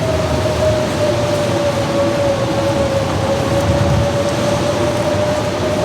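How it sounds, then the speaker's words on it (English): A storm rolls through The Long Dark game world: constant heavy rain with a low rumbling wash and a faint steady tone beneath, unbroken and fairly loud throughout. "have a storm coming"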